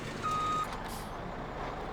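In the Farming Simulator 17 video game, a truck gives a short reversing beep over a low steady engine rumble, with a brief burst of air-brake hiss.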